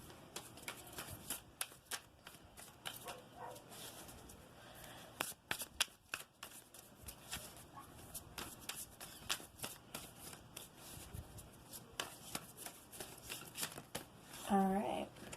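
Twin Flame Journey tarot cards shuffled by hand in a steady run of soft riffling flicks and slaps, close and moderately loud, with a few sharper card snaps midway and a brief thump near the end.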